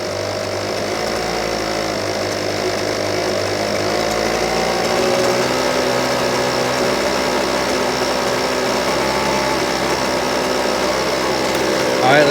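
A Husqvarna 125BV leaf blower with a running fault idles low and steady, a close, continuous buzzing drone of the small two-stroke engine with no talking over it.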